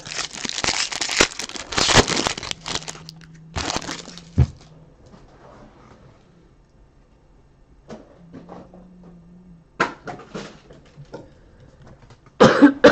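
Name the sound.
coughing, hacking cough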